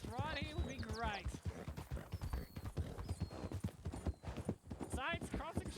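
A horse pulling a carriage clip-clops in a steady, close rhythm of hoofbeats, with people talking over it and a short whinny-like sound in places.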